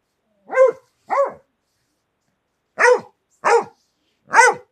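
A dog barks five times up close, two quick barks, a pause, then three more in an even rhythm against near silence.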